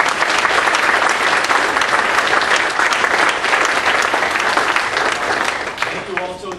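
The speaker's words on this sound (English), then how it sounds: "If we could just have a round of applause for them" A room full of people at a candidates' forum for a Pennsylvania state representative seat gives sustained applause, dense and steady, fading slightly near the end.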